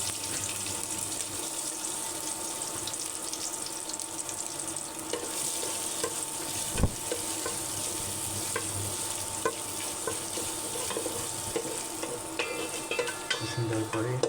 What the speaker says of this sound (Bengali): লাল লাল করে ভেজে নিতে হবে পেঁয়াজগুলো এবং মশলাটা।